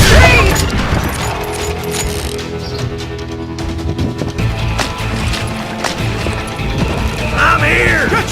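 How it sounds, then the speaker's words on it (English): Street gunfight in Call of Juarez Gunslinger: loud, dense bursts of shots, crashes and impacts piling over each other in a busy, chaotic mix with sounds of a voice among them. "They're shooting in the street!"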